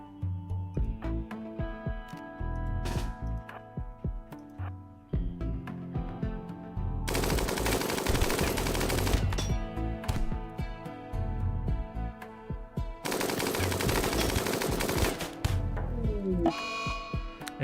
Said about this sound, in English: we're going to shoot Starchy and kill them.